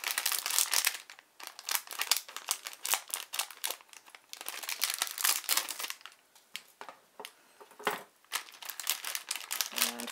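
Loud, close crinkling of a plastic bag being cut open with scissors and handled, a dense run of crackles with brief pauses and no talking.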